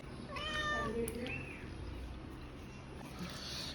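A house cat mews softly a couple of times early on, quick rising cries that fade into a low, steady indoor background.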